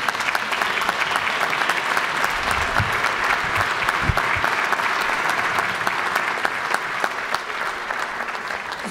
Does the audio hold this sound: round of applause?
yes